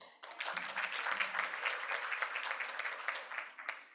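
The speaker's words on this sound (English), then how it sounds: "I'm going to take that applause as meaning that you had a wonderful lunch" Audience applause fills a conference hall after a presenter is introduced at a healthcare innovation event, with steady clapping from a large crowd sustained for several seconds before tapering off.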